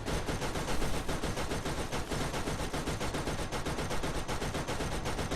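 Rapid, dense automatic turret gunfire cutting down enemies in Borderlands, a continuous loud rattling barrage of shots with no letup and no talk.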